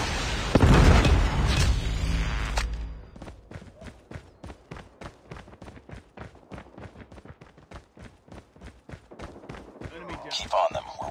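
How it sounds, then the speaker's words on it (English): A predator missile explosion in the mobile shooter Call of Duty Mobile hits with a loud, heavy boom in the first couple of seconds, followed by a fast, steady run of sharp pops and thuds from ongoing gunfire. "Friendly predator missile inbound."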